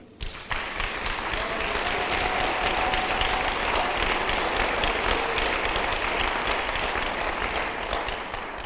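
A church congregation claps steadily and at length during a worship service, a dense, even wash of applause that starts abruptly and holds at a moderate level.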